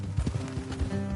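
Horse hooves clip-clop in the video game Red Dead Redemption 2: a brief, close run of uneven thuds over a steady backdrop of game ambience.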